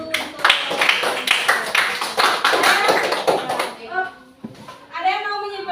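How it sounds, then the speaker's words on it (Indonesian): Children in a classroom give a short burst of brisk clapping for about three seconds, followed by a teacher's voice speaking. "Tepuk tangan dulu untuk"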